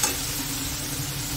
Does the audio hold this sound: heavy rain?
no